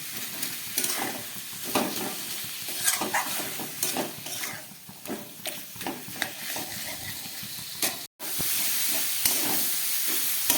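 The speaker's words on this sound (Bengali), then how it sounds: "আদা জিরে লঙ্কা বাটা দিয়ে খুব ভালো করে আমি কষিয়ে নিলাম মোচার সঙ্গে।" Banana flower sautéing in a pan with ginger, cumin and chili paste, a steady sizzle with stirring scrapes, a short break near the end, then the hiss resuming.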